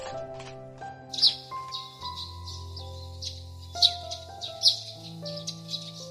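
Baby birds chirping from a nest under a house roof, with bright, short tweets in scattered bursts over a steady tonal background, close and fairly clear with no talking.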